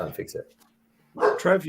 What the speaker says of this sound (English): Excuse the dog barking.